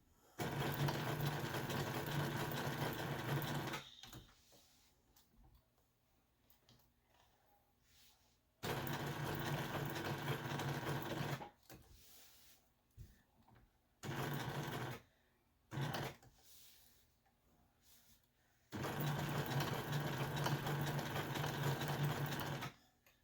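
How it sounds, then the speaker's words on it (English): A sewing machine stitching a pillow case with dark green thread runs in loud, steady bursts of several seconds each, separated by quiet pauses and a few short spurts, close by. "And now I'm just going to keep stitching the stem down back."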